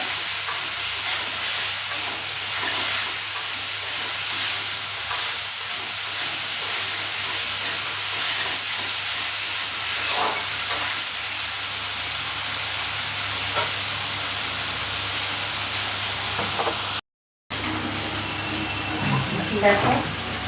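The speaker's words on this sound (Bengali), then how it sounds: "আলুটা একটু লাল লাল করে ভেজে নেবো।" Potatoes fry with salt in a pan until reddish, giving a loud, continuous close sizzle with hissing steam and occasional stirring scrapes for about twenty seconds, with one brief dropout near the end.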